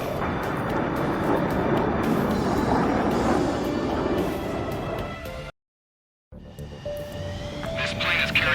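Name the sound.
aircraft engines in the video game Ace Combat 7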